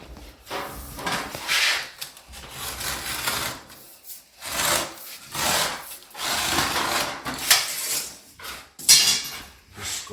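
Utility knife scoring the back of a sheetrock panel, repeated rough rasping strokes in bursts of a second or two separated by short pauses, close and fairly loud.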